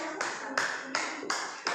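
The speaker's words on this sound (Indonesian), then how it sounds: "Beri tepuk tangan" Rhythmic claps in short bursts from a group of students in a classroom, evenly spaced about every third of a second and fairly close, with faint room noise between them.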